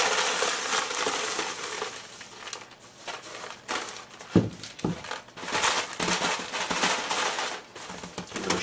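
Muesli is tipped into a 2 litre plastic ice cream container, making a rattling, crunchy cascade of dry flakes and grains. The pour comes in uneven bursts with a few sharper knocks, up close and with no talking.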